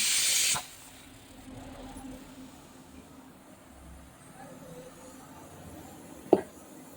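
A pressure cooker holding mutton lets out a loud, sharp hiss of escaping steam for about half a second, then quiet kitchen hum and a single short clack.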